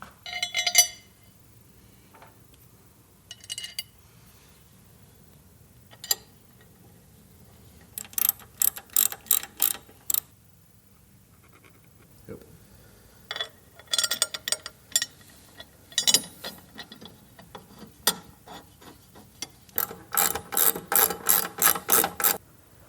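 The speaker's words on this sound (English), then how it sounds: "I'm gonna torque them to 30 foot-pounds" Torque wrench ratcheting while blue-threadlocked exhaust bracket bolts are tightened to 30 foot-pounds on a Milwaukee Eight Softail during a Rinehart 2-into-1 exhaust install, repeated close bursts of rapid clicks with quiet gaps between strokes.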